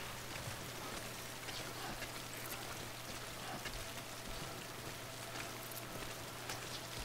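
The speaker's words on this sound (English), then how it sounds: "These rain sounds are making me fall asleep though" Steady rain in the video game Death Stranding patters and hisses continuously at an even level, a dense wash of drops with a low constant hum beneath and no voices.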